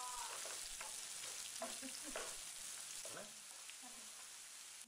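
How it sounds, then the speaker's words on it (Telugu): Onion pieces sizzle in hot oil with cardamom for a Chettinad chicken curry, a close, steady frying hiss with intermittent crackles and stirring scrapes throughout. "ఇప్పుడు ఉల్లిపాయ ముక్కలను వేసుకోవాలి"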